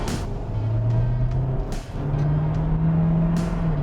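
A Kia Sorento hybrid's 1.6-litre engine accelerating in sport mode, a steady droning hum that rises in pitch, briefly dips, then climbs again, heard from inside the cabin amid road noise.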